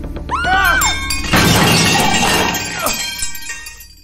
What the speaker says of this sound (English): The room exploded in a riot of splintered wood, broken glass, tins and crockery